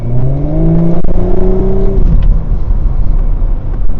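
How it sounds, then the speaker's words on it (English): An Audi S5 engine revs loudly nearby in sport mode, the exhaust note rising in pitch then dropping into a rough, throaty rumble. "When I put it back into S mode, the exhaust turns back on."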